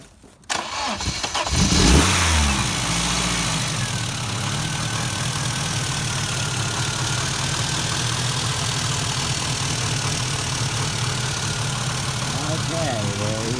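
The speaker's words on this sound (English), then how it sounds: "we're doing a cold start of the 1987 Cosworth Mercedes 190E" A 1987 Mercedes 190E Cosworth cranks over from cold, catches and settles into a steady, loud idle that runs close by. People speak briefly during the start.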